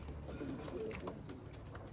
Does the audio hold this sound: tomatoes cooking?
no